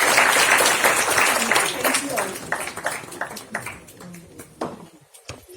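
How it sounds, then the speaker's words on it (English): Audience applause at a book launch in India, a dense wash of clapping that thins out and fades over a few seconds, with scattered last claps and voices underneath. "A huge round of applause for Rituji,"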